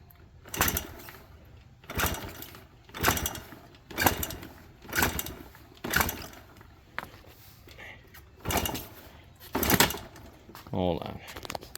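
A Yamaha QT50 Yamahopper moped, fuelled with the choke pulled, is kicked over from cold about eight times in a steady rhythm, each close mechanical thump and brief sputter spaced roughly a second apart without catching into a run.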